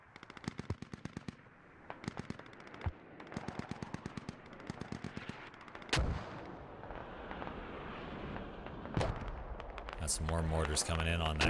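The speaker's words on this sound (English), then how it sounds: "Some more mortars coming in on that corner." Mortar and gunfire in the military shooter game SquadOps: rapid machine-gun bursts in rhythmic clusters punctuated by a few heavy booming impacts, fairly loud and close, with radio chatter and talk mixed in near the end.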